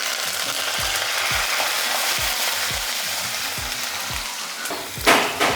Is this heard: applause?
no